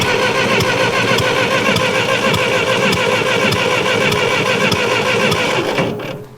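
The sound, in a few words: 1949 Ferguson TEA 20 tractor engine turning over and starting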